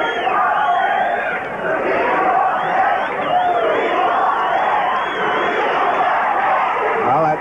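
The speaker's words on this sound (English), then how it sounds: "the crowd chanting and wanting the Socceroos to get into double figures" A large stadium crowd at a 1981 Socceroos versus Fiji football match chants loudly and continuously, a dense roar with rhythmic swells that stays close and full throughout.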